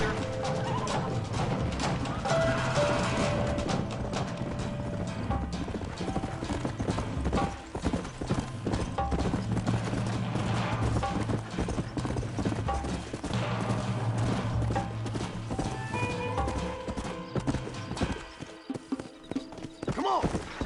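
Horse hooves clip-clop steadily in the video game Red Dead Redemption, with occasional whinnies and mechanical clatter, while voices talk over the rhythmic hoofbeats.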